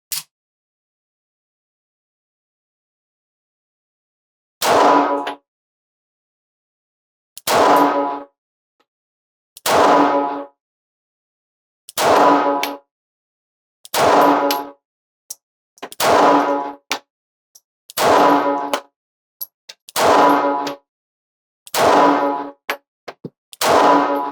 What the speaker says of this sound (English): Let's do our first magazine with our Bodyguard 2 Carry Comp.